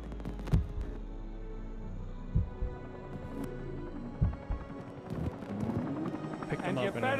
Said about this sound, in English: Helicopter blades.